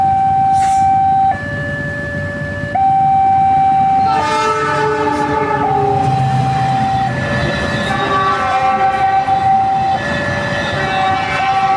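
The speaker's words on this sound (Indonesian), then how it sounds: "Kereta api Ranggajati, teman-teman, baru melintas di JPL 90." Ranggajati passenger train passing railway level crossing JPL 90 near Baron station, Nganjuk, East Java: sustained stepped warning tones over a low rolling rumble, loud and close, shifting pitch as the train goes by.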